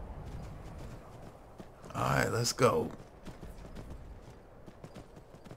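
Horse hoofbeats in Skyrim clatter in a steady galloping rhythm throughout while a person briefly speaks in the middle.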